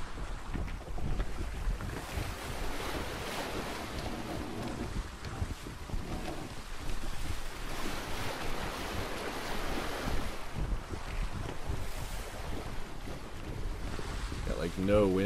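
In the pirate sailing game Atlas, steady wind and ocean waves rush constantly at sea around a ship, a loud, broad roar that fills the whole stretch with no break.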